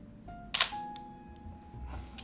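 An Olympus OM-4 SLR camera shutter fires at 1/250 second: one sharp, close mechanical snap followed by a faint ringing tail. Quiet room tone sits beneath it.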